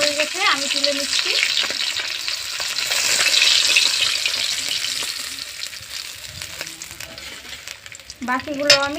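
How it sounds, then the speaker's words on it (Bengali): Fish fries in hot oil for a fish curry with raw potatoes: a steady, close sizzle with occasional stirring clinks, and faint voice-like sounds at the start and end. "বাকিগুলো আমি একইভাবে ভেজে নেব"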